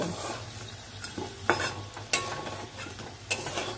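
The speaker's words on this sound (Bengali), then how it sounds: "এটা তুলে নিয়ে এবার বাকি পকোড়াগুলো ভেজে নেব।" Potato pakoras frying in hot oil, a steady low sizzle with a few sharp clinks and scrapes of a spoon lifting them out, close and moderately quiet, no voices.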